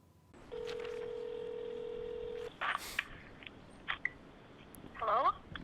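Telephone dial tone hums for about two seconds, then a short series of touch-tone keypad beeps follows as a number is dialed, with faint rustling and handling sounds around it.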